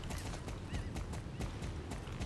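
Rapid, steady hoofbeats of a galloping horse in Star Stable, close and continuous, with a game-like sound quality.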